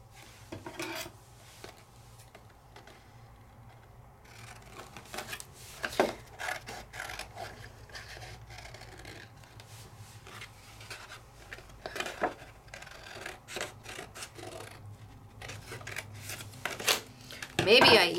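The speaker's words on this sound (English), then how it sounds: "Let's just cut a piece out." Scissors cut a piece out of holographic glittery red card, making intermittent close snips and papery rustles with occasional talking.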